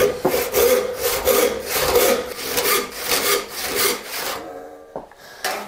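Hand saw strokes cutting through wood for a drawing bow compass, a close, rasping back-and-forth rhythm of steady strokes that pauses just before the end, followed by a faint knock.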